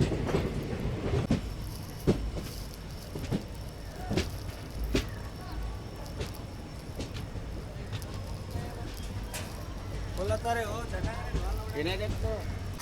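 The 17022 Vasco da Gama–Hyderabad weekly express rolls into Londa Junction with steady rumble and rhythmic clickety-clack of wheels over rail joints, heard from on board with voices talking in the background.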